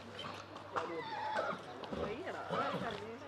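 At Ooty, a horse gives a neighing whinny while hooves clip-clop nearby, mixed with people talking around it.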